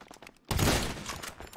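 Gunfire in Grand Theft Auto 5 Online erupts after a quiet moment as a loud, dense burst of shots and impacts that keeps rattling for about a second.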